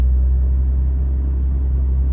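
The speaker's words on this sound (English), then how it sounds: "So that was a cold start." Nissan Stagea 25T RS-Four with an R34 GT-R face idling just after a cold start, its engine giving a loud, steady low rumble up close with no talk over it.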